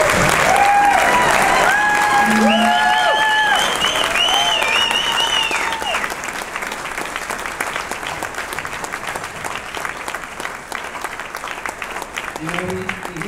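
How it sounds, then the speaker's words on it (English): At a Tunnel to Towers memorial fundraiser, an audience claps to honor standing firefighters and first responders: dense, sustained applause throughout, with tonal whistle-like sounds and background noise in the first half, thinning slightly toward the end. "let us clap and honor you"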